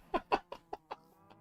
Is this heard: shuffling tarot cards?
no